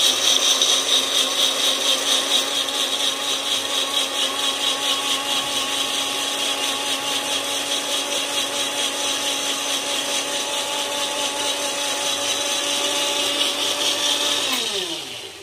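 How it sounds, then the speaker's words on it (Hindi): A mixer grinder (mixie) whirs steadily while grinding masala, a loud continuous motor drone with a bright high whine that holds for about fifteen seconds before winding down abruptly at the end; no one talks over it. "मिक्सी में कितना पानी चला गया, ऐसी मिक्सी खराब हो जाती है।"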